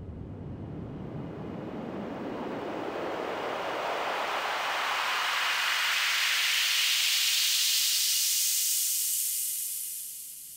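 A filtered noise sweep from the UVI Electro Suite synth's noise generator: steady hiss rising slowly from a low rumble to a bright, airy wash over about ten seconds, then fading, with no voice.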